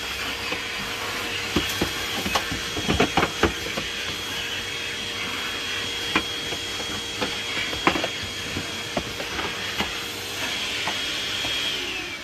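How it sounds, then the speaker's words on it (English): A vacuum cleaner sucks dirt out of the interior of a Ford Crown Victoria, a steady close whine and hiss with scattered rattles and clicks as debris gets pulled in, no talking. "we're going to vacuum up this filth"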